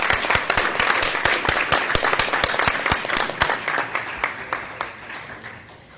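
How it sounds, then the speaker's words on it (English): Audience at a board of trustees meeting giving a round of applause, crisp individual claps from a modest crowd, fairly close, that thin out and fade toward the end. "Let's give them one more round of applause"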